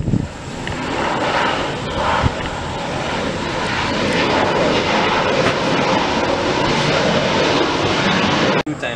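A Thai Airways Boeing 777 jet landing at Suvarnabhumi airport on runway 19R, its engines a loud, steady roar that holds close for the whole stretch before cutting off abruptly near the end.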